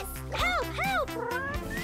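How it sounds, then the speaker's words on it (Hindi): A kitten stuck up in a tree gives two rising-and-falling meows in quick succession, then a shorter cry, close and clear. "ब्लूई, दरख्त पर एक बिल्ली है।"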